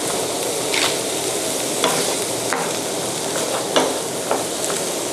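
A cooked, colorful mixture of green, orange and yellow ingredients is tossed and stirred in a pan for a savory Thai filling, with irregular scraping knocks over a steady sizzling hiss.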